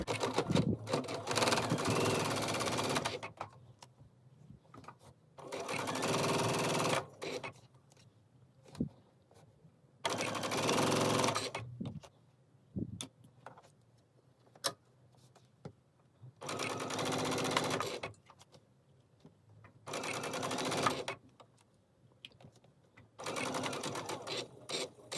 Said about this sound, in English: Now we're going to take it over to our machine and do our 3/8 inch seam allowance all the way across.